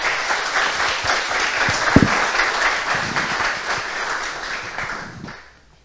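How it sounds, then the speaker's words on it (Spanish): An audience at a demo day claps to welcome a presenting group, a full burst of applause with one sharp bump near the middle that gradually thins and fades out at the end. "Recibimos con un fuerte aplauso al último grupo"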